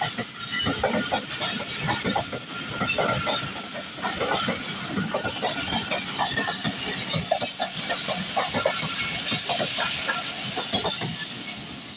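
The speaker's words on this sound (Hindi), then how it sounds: "ओए हाय हाय हाय हाय, ट्रेन, क्या बात है, एक ट्रेन।" A passing train rattles steadily for the whole stretch, with rhythmic clickety-clack of wheels over rail joints and dense mechanical clatter, fairly loud and close, with no talk over it.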